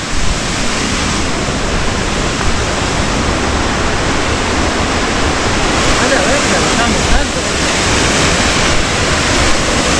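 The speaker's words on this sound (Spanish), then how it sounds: "El río y acá está la cascada." Steady, loud rush of a waterfall in Huilo Huilo Biological Reserve, Chile, a dense roaring wash of water that never lets up.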